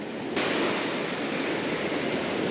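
Ocean waves breaking on a beach during surf fishing, a steady loud wash of surf noise, close and constant, without speech.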